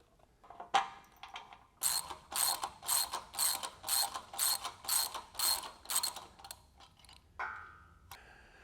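Pulley and cable being set back in place on a Smith machine, a close mechanical clicking and ratcheting in a rhythmic series of about a dozen even pulses, followed by a few scattered knocks.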